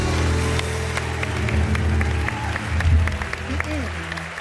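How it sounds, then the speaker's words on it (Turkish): Studio audience on a Turkish television talk show breaks into group applause for the guests, a dense steady wash of clapping under a host's voice. "Konuklarımıza toplu bir alkış alalım şöyle."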